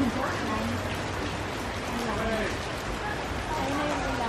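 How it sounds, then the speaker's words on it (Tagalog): Steady rain falls outdoors, a dense even hiss that persists throughout, with people talking over it. "Ayun na yung ulan na maaaway."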